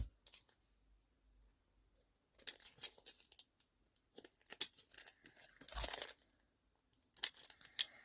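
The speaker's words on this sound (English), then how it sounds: "let's just trim off these little bits from behind" Scraps of paper being trimmed from the back of a handmade Christmas journal page: scattered bursts of snipping, tearing and crinkling, close and fairly quiet, separated by short pauses, with no talking.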